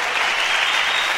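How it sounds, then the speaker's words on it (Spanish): A church congregation at a Honduran worship service breaks into a brief burst of dense, continuous clapping, loud and close. "levante una ofrenda de palmas para Cristo"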